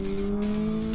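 A vehicle cruises along a lightly trafficked freeway, a steady droning engine and road hum with a strong tonal whine, close and continuous.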